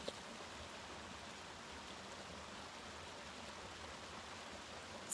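Steady broadband rush of creek water flowing at a cool spot along a rainy mountain trail, a continuous even wash with no voices, holding at a constant moderate level throughout.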